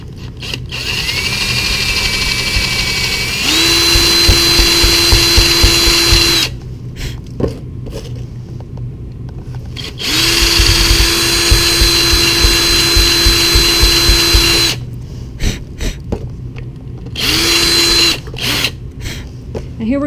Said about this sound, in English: Shows me where to drill.